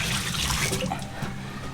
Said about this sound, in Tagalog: Hugas muna tayo ng kamay.